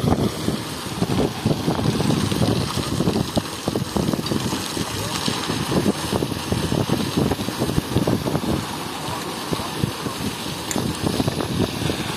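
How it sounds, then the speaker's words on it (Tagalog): Steady wind rushes across an outdoor road concreting site in Barangay Hagnaya, Jamindan, Capiz, buffeting the microphone with a constant low roar and a faint engine-like rumble underneath, with some talk mixed in. "Hangin ngayon dito sa Barangay Hagnaya"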